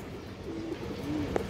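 A female pigeon coos softly in two low, drawn-out calls, faint and close against a steady hiss of background noise, with no talk.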